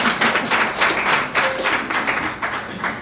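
Audience at Parakou's big trade fair in Benin clapping steadily for about three seconds, a broad, fairly loud wash of overlapping claps with no voices over it.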